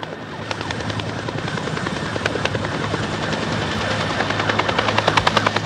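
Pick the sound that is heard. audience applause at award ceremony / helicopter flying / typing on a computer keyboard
helicopter flying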